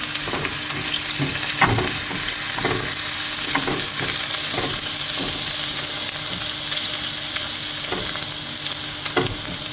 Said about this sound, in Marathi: जिंजर आनी गार्लीक बरी भाजून घेवपाची.